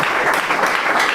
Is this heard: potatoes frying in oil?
no